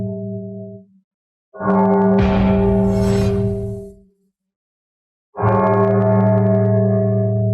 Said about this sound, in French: Qui a sonné la cloche?